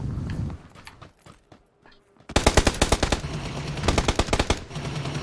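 Gunfire in the PUBG video game rattles out in rapid automatic bursts, loud and close, after a quieter stretch of scattered shots and movement sounds, with no talk.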